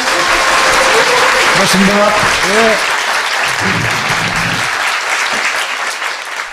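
A live talk-show audience applauds a guest, a National Assembly member, with loud sustained clapping while a voice speaks briefly over it.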